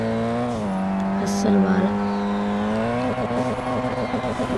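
Race car engine in a racing video game, with a steady high engine drone rising in pitch as the car drifts, with a brief squeal in the middle; someone talks over it throughout.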